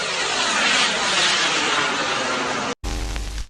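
A jet aircraft roars past in a loud, steady broadband rush for nearly three seconds, then cuts abruptly to a different, rumbling scene.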